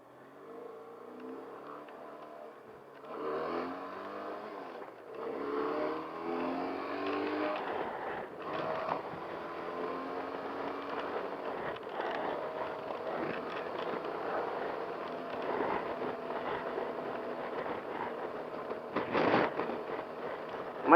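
A Benelli TRK 502 motorcycle is ridden down the road, its engine droning steadily as it rises through gears with some wind rush, moderately loud and continuous throughout.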